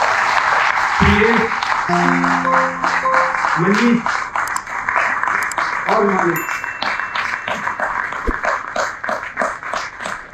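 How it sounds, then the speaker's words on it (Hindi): Steady audience applause during cast introductions at a stage play, continuous clapping throughout under a man calling out names over a microphone. "प्लीज तालियां बजती रहे।"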